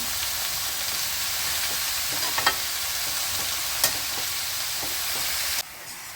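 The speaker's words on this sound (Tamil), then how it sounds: "நெய்யிலேயே அந்த கேரட் நல்லா வதங்கி கொஞ்சம் வேகட்டும்." Grated carrots sauté in ghee for carrot halwa, giving a steady close sizzle broken by a few scraping stirs of the spoon, and the sizzle drops sharply at the very end.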